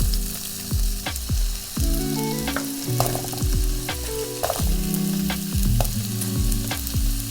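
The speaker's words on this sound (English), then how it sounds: "In the same pan, add the potatoes and carrots." Potatoes and carrots fry in the same pan used for beef, a loud continuous sizzle with repeated scraping and clattering as they are stirred.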